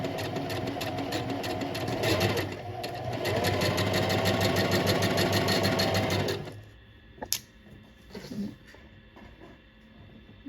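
Sewing machine stitching a slouchy tote bag, a fast steady rattling run for about six seconds that stops abruptly, followed by quiet clicks and handling sounds.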